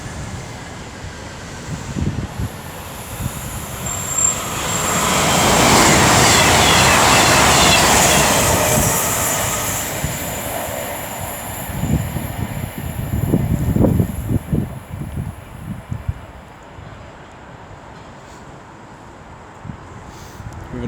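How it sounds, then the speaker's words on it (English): A class 221 diesel train, unit 221-117, approaches Rugeley Trent Valley station on the West Coast Main Line, its engine rumble swelling then fading, followed by rhythmic wheel clatter over the rails from the passing carriages. "I'm also expecting 221-117 to round the corner now, working 1 Delta 86 from London Euston to Chester"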